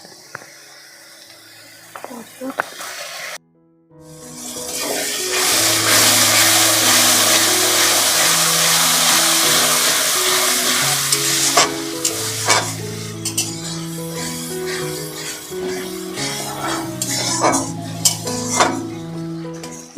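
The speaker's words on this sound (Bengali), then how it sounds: "পেঁয়াজ রসুন আদা আমরা ভালো করে একটু ভেজে নিয়েছি এবার দিয়ে দেবো একটা টমেটো পেস্ট" Onion, garlic and ginger frying in a pan for palak paneer, with tomato paste added: a loud, steady sizzle that bursts in after a brief pause, with repeated stirring scrapes and utensil clinks against the pot.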